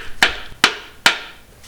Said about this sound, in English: I started to tap them in with a hammer, but I used a block of wood to make sure I didn't mar them up too bad